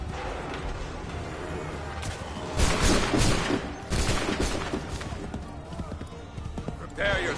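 A volley of musket fire in the Hunt for Freedom game rings out as a dense, rolling crackle of overlapping shots mid-scene, with shouted commands and battle noise around it.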